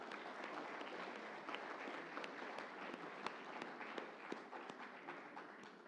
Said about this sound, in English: a big round of applause for the participants.